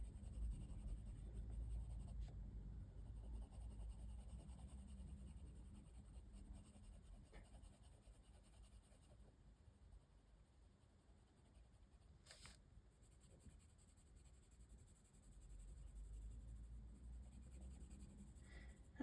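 Colouring pencil buffing across paper in small circular strokes, a soft continuous scratchy rub close up, steady and fairly quiet throughout with no talking.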